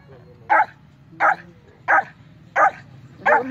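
A dog barks five times at an even pace, each bark short and close, with a faint hum underneath.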